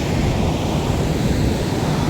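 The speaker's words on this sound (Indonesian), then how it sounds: "Inilah suara ombak-ombak guys." Steady ocean surf at Taluk Bayu beach, a continuous broad wash of breaking waves with some wind buffeting the microphone and no voices.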